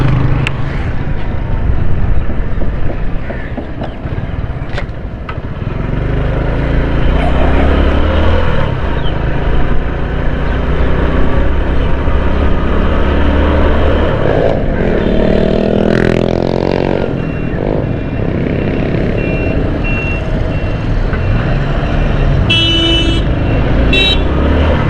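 Busy road traffic near an expo, with a steady loud roar of passing cars and motorcycles and a few short horn toots toward the end, close by and without speech.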